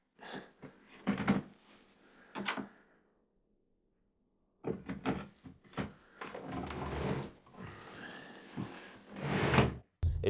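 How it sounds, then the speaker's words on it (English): Stiff wooden drawers are tugged open with effort, giving bursts of scraping, knocking and rattling thuds at close range, separated by a short silent pause. "It's just that it's really hard to open these drawers."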